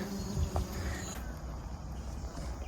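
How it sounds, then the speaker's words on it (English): Steady buzzing of bees hovering close by among sunflowers in a garden, a continuous insect drone over faint outdoor background noise. "The bees have loved it"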